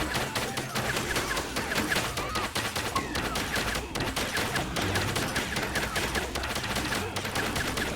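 Rapid video game gunfire aimed at a target's head, dense continuous bursts of shots rattling close and loud for the whole stretch, like sustained automatic fire.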